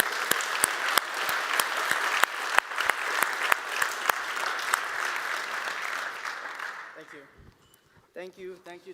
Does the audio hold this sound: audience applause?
yes